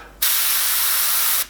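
An airbrush spraying paint onto artwork of the Joker gives a single steady, loud hiss up close, starting abruptly and lasting just over a second before cutting off.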